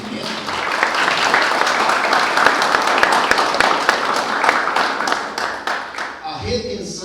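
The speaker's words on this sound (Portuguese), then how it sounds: "Pode aplaudir vocês pelo entendimento" An audience at a motivational talk claps loudly and steadily for about six seconds, and a voice cuts in as the applause ends.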